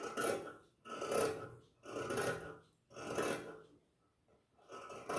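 Scissors cut blouse fabric in a rounded curve, giving close, soft rasping snips in a steady rhythm of about one stroke per second, each separated by a brief pause.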